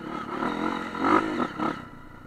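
Dirt bike motorcycle engine on a forest trail, revving in bursts with rising and falling pitch, close and moderately loud with some clatter, no voices.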